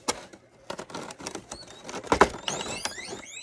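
Pet guinea pigs give a few high, rising squeaks toward the end, faint and in the background beneath nearby crinkling of plastic packaging and light tapping.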